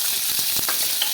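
Finely chopped onion sautéing in hot oil with mustard seeds and chillies, a brief bright sizzle with a few quick stirring scrapes, close up.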